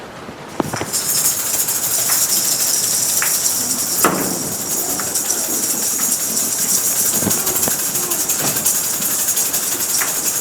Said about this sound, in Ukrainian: і вперше за довгий час почалась страшна злива.